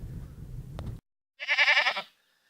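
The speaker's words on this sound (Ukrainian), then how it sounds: "Сумує коза, плюс хоче, щоб її подоїли." A low rumbling noise cuts off, then after a short silence a goat wanting to be milked gives one loud, quavering bleat nearby in a village.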